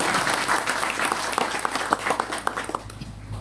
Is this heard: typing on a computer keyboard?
no